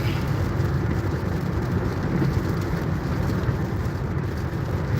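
Steady rain drumming on a vehicle while driving on a highway, a dense, continuous wash of noise with low road rumble underneath, loud and unbroken throughout.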